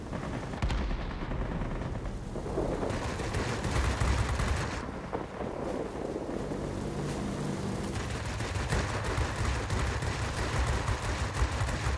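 Heavy cannon fire from a Beaufighter heavy fighter in World of Warplanes, a loud dense rattling roar of rapid bursts running nearly continuously with brief dips, close and dominant throughout.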